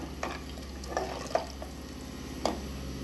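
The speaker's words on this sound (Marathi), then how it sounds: "मीठ टाकल्यानंतर पण हलवते थोडं" Salted maize grit rice being stirred in a pot, a few soft scrapes and knocks of a spoon against the pot over a steady low background hum.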